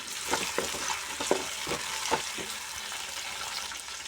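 Cumin, fenugreek, black gram dal and onions stir-frying in hot oil in a pan for a fish curry, a steady soft sizzle broken by several sharp scrapes and taps of a spoon against the pan.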